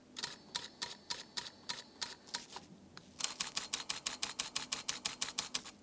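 A Fujifilm GFX medium format camera shutter clicks in quick repeated bursts, a few spaced shots first, then a rapid, even continuous run of sharp mechanical clacks.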